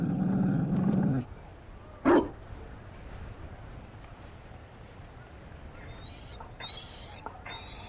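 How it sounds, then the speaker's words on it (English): A Mabari war dog in Dragon Age Inquisition gives a short bark after an opening burst of noise, then quieter growls and yips follow over low ambient sound. "You found a dog."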